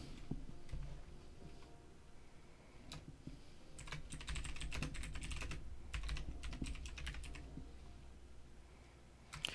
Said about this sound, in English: Let's start typing some of this up now.